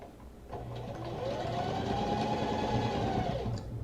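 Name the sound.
sewing machine stitching kimono panels together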